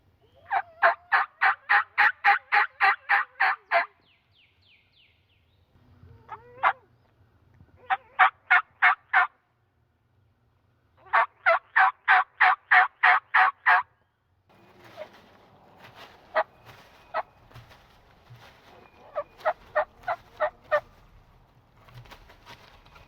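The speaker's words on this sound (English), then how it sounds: "see if we can get back on these gobblers" Wild spring gobblers sounding off during a turkey hunt in Pennsylvania, several loud rapid gobbling bursts heard close by, separated by short silences.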